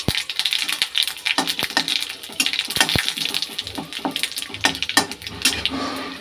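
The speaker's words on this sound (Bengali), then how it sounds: "এই যে 5 ফোড়ন দিয়ে দিচ্ছি" Panch phoron spices with dried red chillies and bay leaf spluttering in hot oil, a dense run of rapid crackling pops and sharp spits with a few metallic clinks, steady and close.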